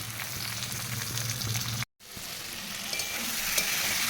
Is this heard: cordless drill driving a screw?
no